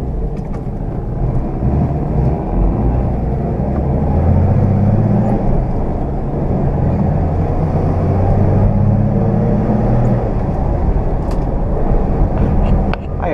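A 1969 Aero Willys engine gives a steady, loud rumble droning continuously up close, with slight changes in pitch as the car pulls along in first gear.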